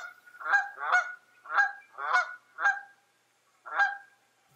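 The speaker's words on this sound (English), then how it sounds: "So here's what regular Canada geese sound like." Canada geese honk in a clean recording, six loud nasal calls in an uneven rhythm with a short gap before the last one, heard alone against silence.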